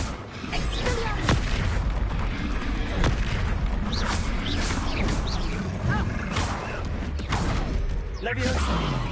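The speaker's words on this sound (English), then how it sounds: "Expelliarmus!" Expelliarmus spell cast in the Hogwarts Legacy video game, a loud dense wash of magical whooshes, cracks and booming impacts sounding continuously through a busy battle, with no talk over it.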